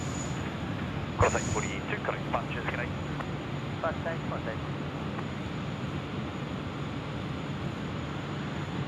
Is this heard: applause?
no